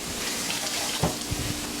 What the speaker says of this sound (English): let me wash this carrot